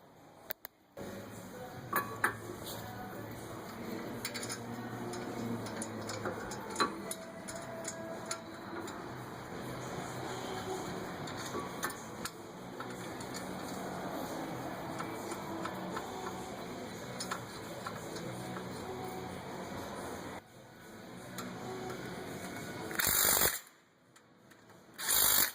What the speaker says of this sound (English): We can just slide the caliper mount bracket into place then and bolt it on